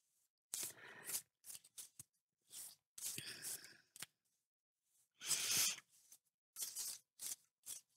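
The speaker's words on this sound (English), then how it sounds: "Just going to give them a light shuffle." Tarot cards are lightly shuffled by hand, several short papery riffling bursts separated by quiet pauses, close and soft.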